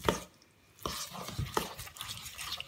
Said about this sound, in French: je laisse mademoiselle touiller